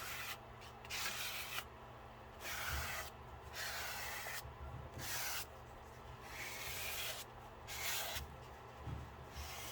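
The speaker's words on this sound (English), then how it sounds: "So let's just do some scraping of the paint." Paint being scraped across the pages of a composition book journal, giving repeated rough rubbing strokes in bursts with short pauses between them, close and fairly quiet with no talking.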